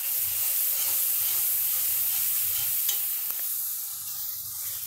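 Spices for aloo gobhi frying in a pan while being stirred: a constant close sizzle and hiss with soft scraping strokes, steady throughout and no voices.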